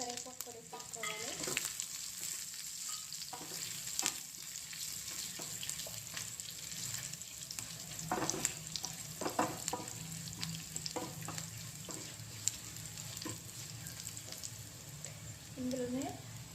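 Curry leaves sizzling in butter for coriander rasam: a steady, close crackle and hiss of frying with scattered pops and stirring scrapes, continuous for the whole stretch.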